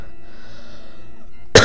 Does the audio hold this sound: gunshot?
no